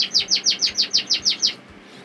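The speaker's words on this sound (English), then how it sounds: "You can possibly hear there's one or two lustful cocks, belting out song." A male canary in a breeding room sings a rapid series of about ten bright, identical chirps in an even rhythm. The song is clear and fairly close over a soft room hum.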